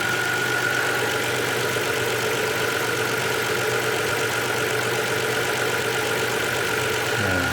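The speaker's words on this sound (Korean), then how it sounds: "엔진 소리는 좋네요." A 2009 Hyundai Grandeur TG with an LPI engine idles close by, a steady, even hum with a faint rhythmic ticking and no talk over it.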